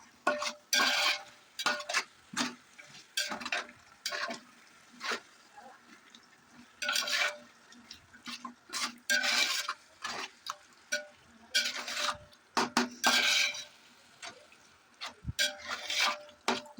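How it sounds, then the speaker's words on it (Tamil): Spoon stirring chicken into biryani gravy in a pot, scraping and sloshing in repeated close strokes separated by short pauses, with a light sizzle underneath. "அப்புறம் சிக்கன் போட்டு நல்லா மிக்ஸ் பண்ணுவோம்"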